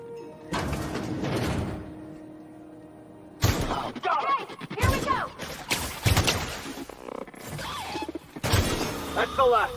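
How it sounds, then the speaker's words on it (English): Hunting rifle gunfire in the video game The Outer Worlds, several loud, sharp bursts spaced apart amid other game effects, with a voice talking between them. "Hunting rifle"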